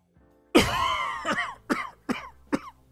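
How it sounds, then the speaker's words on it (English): A man coughs close to the microphone: one long harsh cough, then three shorter, sharp coughs spaced evenly apart. "I don't know why I'm all of a sudden coughing."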